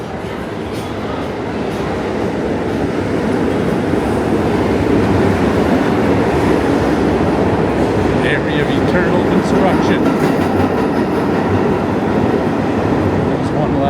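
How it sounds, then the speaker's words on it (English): A loud subway train rumbles beneath a busy New York street along 7th Avenue near 22nd Street, a steady heavy roar filling the scene while someone talks over it. "There's one loud subway"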